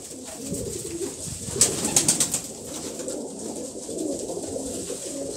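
Old-breed domestic pigeons coo in soft, repeated rolling calls close by, with a short cluster of louder coos in the middle over low background noise.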